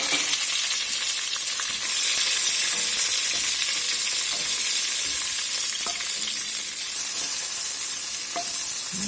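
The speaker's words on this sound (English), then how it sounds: "I'm going to put these little pearl onions in here and let them caramelize a little bit." Pearl onions sizzle and fry steadily in a pot alongside browned beef for a Grade A fancy beef stew, a close, continuous crackling hiss with no voices.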